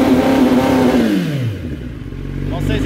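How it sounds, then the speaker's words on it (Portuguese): A Kawasaki Ninja ZX-10R sport bike engine revs up and winds down in a falling sweep, settling into a deep idle rumble before another blip, close by and loud. "vamos dar partida na moto"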